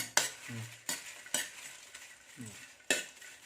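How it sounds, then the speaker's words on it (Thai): Dried chillies being dry-roasted in a pan, heard as sharp scraping stirs with a spatula, five distinct strokes over a faint dry rustle, close and alone. "สูตรผมต้องคั่วพริกแห้ง"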